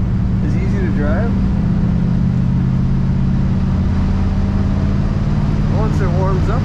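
A 1956 Ford Thunderbird with an automatic transmission on the move, its engine giving a steady low drone inside the cabin, with faint voice-like sounds now and then.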